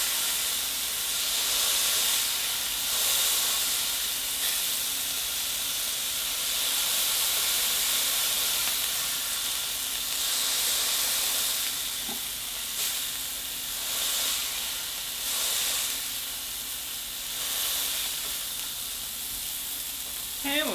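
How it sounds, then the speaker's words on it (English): A smashed burger patty sizzles loudly on a hot cooking surface, a steady hissing fry that carries on for about twenty seconds with small crackles and pops. "So we're going to go ahead and smash that burger."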